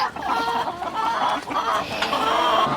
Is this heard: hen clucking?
yes